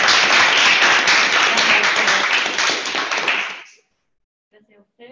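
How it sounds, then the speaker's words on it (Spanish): Applause for a colleague at a business-plan talk, a dense burst of clapping that fades out after about three and a half seconds, followed by near silence and a faint voice. "Un aplauso, por favor, de la colega."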